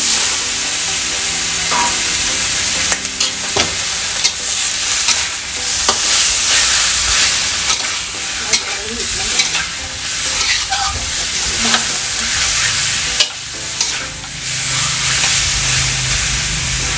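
Pork belly sizzles and crackles in a hot pan, with scraping stirs and occasional sharp clatters of a utensil against the pan, close and continuous.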